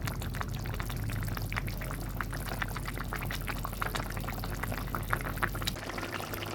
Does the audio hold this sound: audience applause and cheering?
no